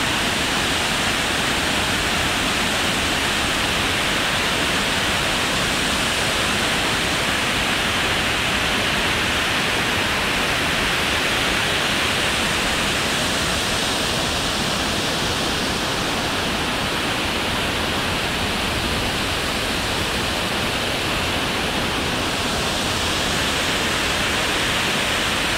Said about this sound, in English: The water is gushing in such speed that I'm actually really scared to even shoot